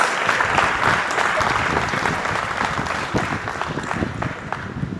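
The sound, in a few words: applause for graduating class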